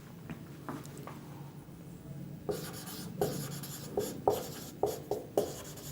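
Chalk or marker strokes on a board during a Hindi-language physics lesson on refractive index, a run of short scratchy taps and scrapes that grow denser and louder toward the end over a low room hum.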